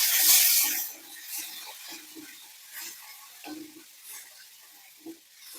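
Spiced onion and tomato masala sautéed in a pan, with intermittent stirring scrapes and soft sizzling close by, a louder burst at the start settling into short irregular stirs.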